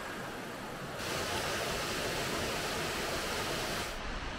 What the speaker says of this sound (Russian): вот и водопад. Сегодня он не такой, конечно, мощный.